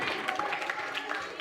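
An audience at an Islamic religious conference at a madrasa applauds children, a steady wash of clapping at moderate volume with some voices mixed in.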